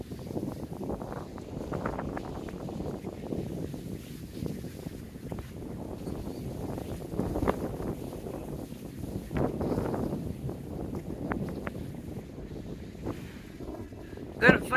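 Strong gusts buffet a microphone outdoors on a very windy day while magnet fishing, a continuous loud low roar with surging peaks throughout.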